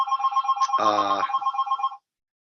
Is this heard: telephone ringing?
yes